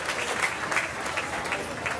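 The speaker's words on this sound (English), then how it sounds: "Give him a round of applause right now." Steady applause from a county fair mutton bustin' crowd, dense clapping sustained throughout at moderate volume.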